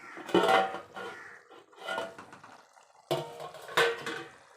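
A metal pot lid comes off a simmered egg curry with several sharp clanks and scrapes in short bursts, up close.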